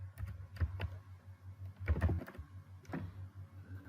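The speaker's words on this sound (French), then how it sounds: "vous permettre d'augmenter votre rapidité de frappe et de maîtriser votre clavier" Keys clatter in quick, uneven bursts on a computer keyboard during a fast touch-typing practice session, close and fairly quiet, with short pauses between clusters of keystrokes and no talking.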